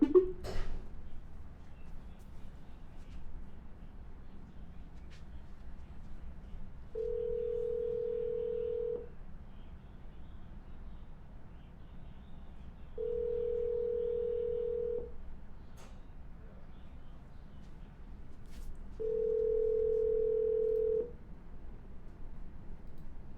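An outgoing phone call rings three times, each ring a clear, steady two-second tone separated by long quiet gaps over a faint background hiss.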